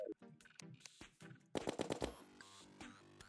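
Rapid bursts of gunfire from a weapon in the Terraria video game, a tight cluster of sharp repeated shots in the middle with scattered single blasts and game effects around them.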